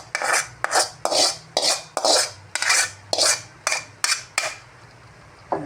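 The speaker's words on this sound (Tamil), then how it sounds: "எல்லாம் நல்லா போட்டு மிக்ஸ் பண்ணிக்கலாம்." A metal spoon scrapes and stirs a radish stir-fry in a pan, with about ten rhythmic, evenly spaced scraping strokes that are close and fairly loud, then a short pause.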